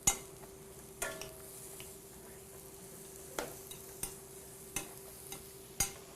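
Sausages sizzle gently in a pan on a burner, a soft steady hiss with a low hum behind it, broken by several sharp clinks and scrapes of a utensil turning them.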